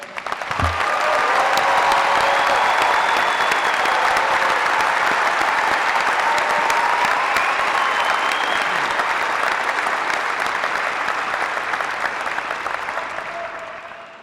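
A large crowd at a 2016 KCU graduation ceremony gives the graduates a sustained round of applause, dense and steady for most of its length before thinning slightly at the end.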